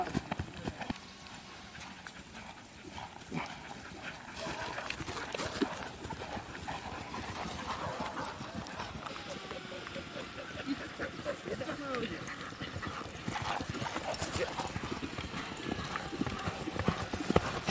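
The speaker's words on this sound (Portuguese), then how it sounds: "Vamos pra galopiando, meu cavalo é meio doido galopiando." Hooves of a galloping horse beat in a steady rapid rhythm outdoors, with rider talk and wind noise over the constant pounding.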